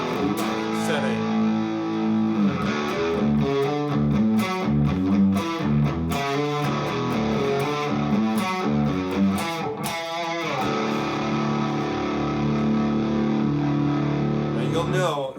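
Electric guitar in drop D tuning with heavy distortion plays a chugging, palm-muted riff with low sustained power chords, loud and continuous throughout with no talking.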